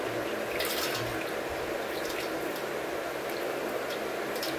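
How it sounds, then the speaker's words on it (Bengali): Ganges water pours steadily over a Shiva idol during a Shravan Monday bathing ritual, a continuous close splashing and trickling stream with no pauses. "আবার পরিষ্কার গঙ্গার জল দিয়ে স্নান করিয়ে নিচ্ছিলাম মহাদেবকে"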